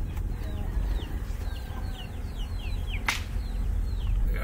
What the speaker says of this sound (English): We got a bunch of chickens here.